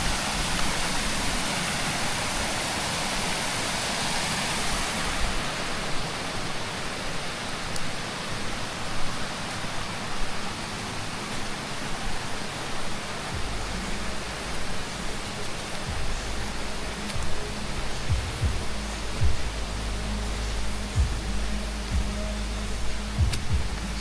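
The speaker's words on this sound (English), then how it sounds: "It's a river down there." A river far below rushes in a steady, broad roar of flowing water, continuous and unchanging throughout, with no voices heard.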